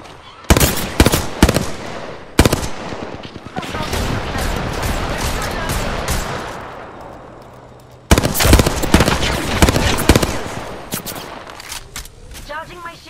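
Rapid bursts of automatic gunfire from an Apex Legends ranked arena match played as Valkyrie, loud volleys separated by a shorter crack and a stretch of dense, continuous firing and scattered impacts.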